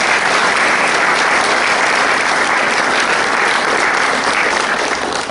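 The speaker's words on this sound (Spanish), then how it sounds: "Pilar, ponte de pie para que te echemos un aplauso" Sustained audience applause at a book presentation, a dense, loud and even wash of many clapping hands that holds steady throughout and only begins to thin out at the very end.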